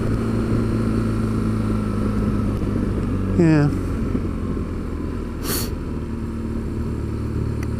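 An old motorcycle engine with double overhead camshafts idles steadily nearby, a constant low hum and drone, with a brief voice and a short rising whine partway through.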